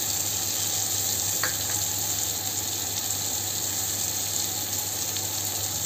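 Garlic cloves frying in oil in a pan for tawa baingan bharta, giving a steady, even sizzle at close range with a faint clink near the middle.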